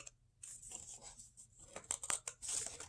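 Scissors cutting paper for a photo prop craft, quiet close snips and crisp rustling with a few sharp clicks near the end, faint and alone.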